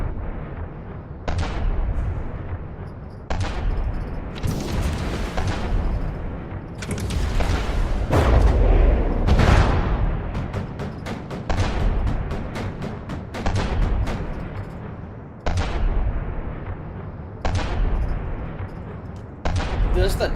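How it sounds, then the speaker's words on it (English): An AA cannon turret fires in a video game, sending out a series of loud booming blasts spaced a second or two apart, each with a rumbling decay, continuing across the whole stretch. "Just the turret firing off sounds awesome."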